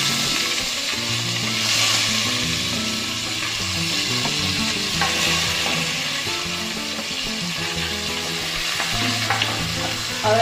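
Chopped tomatoes fry in a pan of toasted mustard seeds with a steady, dense sizzle. A spoon stirs now and then, and no one speaks.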